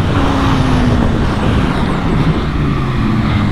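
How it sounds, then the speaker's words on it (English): A 2018 Kawasaki ZX-6R sport motorcycle engine drones at high revs at Laguna Seca Raceway, its tone rising slightly under heavy wind roar, loud and close. "we're riding it here at WeatherTech Raceway Laguna Seca on a 2018 Kawasaki ZX6R"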